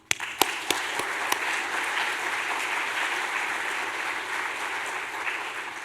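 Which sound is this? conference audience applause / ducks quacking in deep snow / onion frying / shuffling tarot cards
conference audience applause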